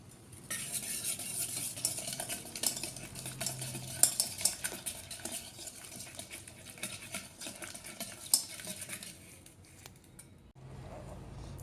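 Soya manchurian ingredients mixed in a bowl with garam masala, a long run of close clinking and scraping stirring strokes with soft squishing, irregular and busy, easing off near the end.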